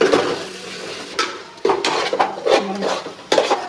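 Green chilies are stirred into a pot of biryani masala, with a spoon scraping and clanking against the metal pot in repeated close, sharp knocks and scrapes.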